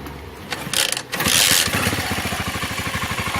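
A Dafra Kansas 150 motorcycle is cranked on the starter, catches, and settles into a loud, close, rapid idle with a steady pulsing beat.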